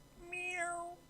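A single short cat meow from a video game, clear and fairly quiet, rising then falling in pitch over about a second.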